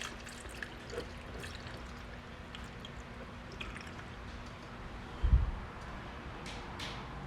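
Transmission fluid drains from a 2019 Honda Ridgeline into a pan as a faint, steady trickle and patter under a low hum, with a single louder knock about five seconds in.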